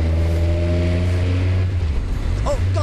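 An MK Indy kit car powered by a Suzuki Hayabusa GSX-1300R engine revs with a strong, close engine drone that drops away, then rises again as the car pulls off.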